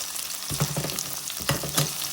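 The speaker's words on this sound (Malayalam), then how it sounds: "വെളുത്തുള്ളി ഒന്ന് മൂത്തിട്ടുണ്ട് കേട്ടോ" Garlic frying in a pan for an Andhra-style drumstick leaf dal curry, a steady close sizzle with a few stirring scrapes cutting in, loud and with no voices.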